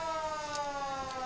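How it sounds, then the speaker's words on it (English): A 1934 Ford ladder fire truck of a volunteer firefighters association sounds its siren during a winter carnival parade, a steady sustained wail heard from a distance. "That siren you're hearing in the background is the Vernon Volunteer Firefighters Association. They are driving today their 1934 Ford ladder truck."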